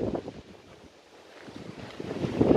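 Wind gusting across a high hilltop overlooking a valley near Civita di Bagnoregio, Italy, a steady rushing buffet on the microphone that dips and then swells louder toward the end, with no one speaking.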